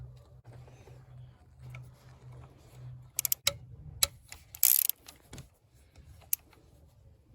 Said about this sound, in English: And now there are these two bolts, which are Torx T30, and you need to remove those as well.